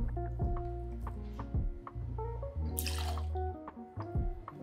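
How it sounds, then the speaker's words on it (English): Blanco tequila pours into a cocktail glass over muddled watermelon with close, bubbling liquid gurgles and drips. "We're gonna add 2 ounces or 60 mils of Blanco tequila."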